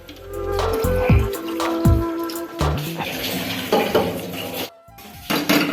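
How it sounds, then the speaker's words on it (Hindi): Cold water poured into a metal pot of boiled eggs at home, splashing and sloshing with clinks of eggs against the pot, close and fairly loud, no talk. "इसमें अभी हम ठंडा पानी डालेंगे"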